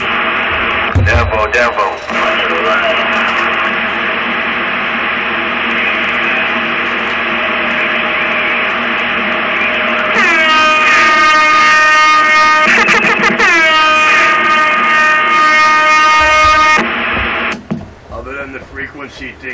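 Truck CB radio check transmission, a steady hissing, humming radio carrier with a brief spoken word near the start and a bright tonal whine entering midway, loud and continuous before cutting off near the end.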